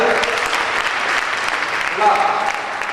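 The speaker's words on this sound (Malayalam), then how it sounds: "കയ്യടി പോരാ, നന്നായിട്ട് കൊടുക്കുക" An audience claps steadily and loudly, dense applause filling the room with voices mixed in underneath.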